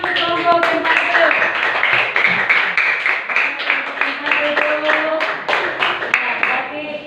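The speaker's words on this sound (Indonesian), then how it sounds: "semua tepuk tangan untuk kelompok yang satu" Classroom applause for the first group of students: many hands clap loudly and continuously, with voices calling out and talking over the clapping.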